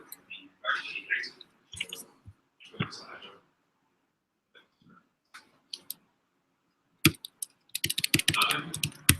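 Keys are pressed on a Mac keyboard while running PowerPoint slides, with sharp, scattered clicks that turn into a quick burst of taps near the end and quiet talk in between.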